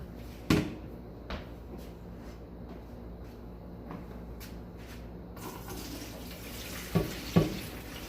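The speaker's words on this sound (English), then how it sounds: "So now I'm going to strain the water, rinse the sea moss a little bit" Running tap water rinsing sea moss, a steady broadband wash that swells toward the end, with a few knocks and clatters of handling scattered over the flow.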